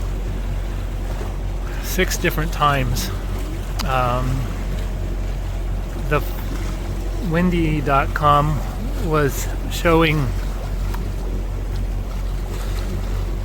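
A sailboat motoring under engine power at a low 1400 RPM, its steady low drone running continuously beneath wind noise while someone talks over it.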